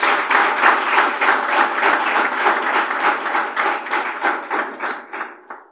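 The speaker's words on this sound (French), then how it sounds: "je vous demande de vous applaudir pour moi." Sustained, dense applause from a crowd at a political party membership declaration event, loud and close, with a rhythmic pulse to the clapping, fading out at the end and no talk over it.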